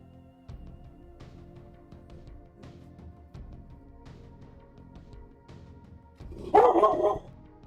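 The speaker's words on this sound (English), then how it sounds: "He's just literally barking a bark." A dog gives a short burst of barking near the end, fairly close and louder than the quiet room before it, after several seconds of faint low thumps and background hum.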